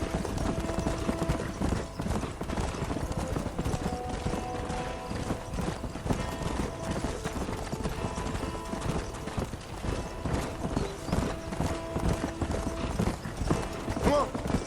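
Horse hooves galloping in the Red Dead Redemption video game: a steady, continuous clip-clop under dense game sound, with tack and gear rattling and a voice calling out over the ride.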